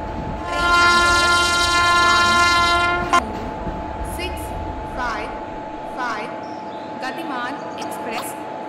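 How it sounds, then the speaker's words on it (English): A train in the Indian Railway Simulation game pulls into a platform, opening with a loud, sustained horn blast over low rumbling wheels, then rolling on more quietly under scattered announcement-style speech. "Gatiman Express is arriving at platform number 2."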